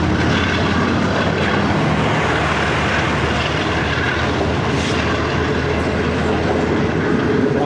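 The new Shalimar Express passenger train, led by locomotive GU40 9022, rumbles past on the rails in a loud, continuous roar with steady wheel clatter, close by and without voices.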